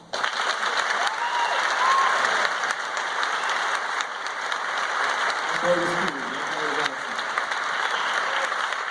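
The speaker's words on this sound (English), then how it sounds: "So I want to give a round of applause just for Tim right now." Audience applause at an event, sustained full clapping throughout, with a voice cutting in briefly around the middle over the crowd noise.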